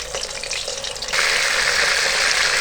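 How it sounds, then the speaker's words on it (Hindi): Chicken fries lightly in a pan with a broad, loud, steady sizzle that swells sharply about halfway through and stays strong to the end. No voices are heard. "तो इसको हम फ्राई कर लेंगे हल्का सा।"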